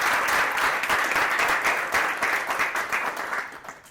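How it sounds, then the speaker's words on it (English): Audience applause for cricketer Sophie Ecclestone at a talk event, a moderately sized crowd clapping warmly and steadily before tapering off toward the end. "So big round of applause for Sophie"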